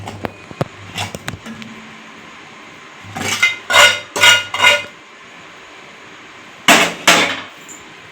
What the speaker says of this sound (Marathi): आता याच्यावर आपण हे पीठ काढून थापून घेणार आहोत